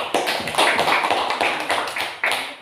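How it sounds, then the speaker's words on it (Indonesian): Classroom applause for a group of fourth-grade students at an elementary school, a burst of many small hands clapping close by in uneven pulses, tapering toward the end. "kita kasih aplaus untuk kelompok"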